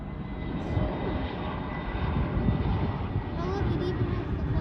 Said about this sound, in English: what you're about to see here is an Aer Lingus from Dublin, Ireland, Airbus